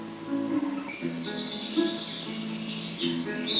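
Birds call at Lake Guinda, known as the Lake of Birds, with thin chirps and tweets rising over a steady low hum of ambient sound, moderately loud and continuous for a few seconds.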